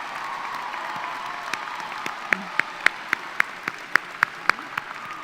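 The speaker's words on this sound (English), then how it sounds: "Let's give them a well-deserved round of applause." An audience at an alternative-school graduation ceremony claps for parents and guardians. Evenly spaced, sharp claps ring out over a soft background murmur, growing crisper and more regular midway before easing off.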